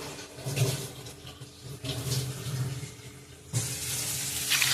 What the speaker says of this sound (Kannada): ಹಾಗೆ ನೀರು ಹಾಕಬೇಕು